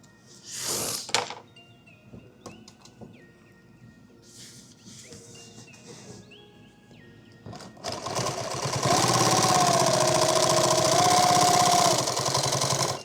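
A sewing machine whirs in a steady, fairly loud run during the second half, after quieter clicks and handling noises.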